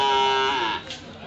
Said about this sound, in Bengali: দেখছি একটি সাইওয়াল জাতের ষাঁড়।